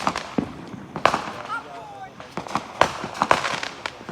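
A 300-shot missile battery fires off outdoors, rapid sharp pops and crackles with faint whistling streaks, irregular and fairly close, while people talk and react over it.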